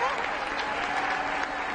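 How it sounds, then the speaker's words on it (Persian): A studio audience at an Iranian couples' quiz show applauds the contestants, a brief, even burst of clapping heard at a moderate distance. "به افتخارشون تشویق بریم"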